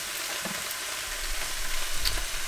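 Food frying in a pan in a home kitchen, a steady close hiss of sizzling with occasional soft stirring scrapes and small pops, swelling slightly louder toward the end.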